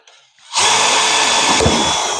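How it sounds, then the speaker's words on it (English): A power drill starts up after a brief quiet moment and runs loud and steady, whining close by as it bores into material. "Basically, get some drill holes in."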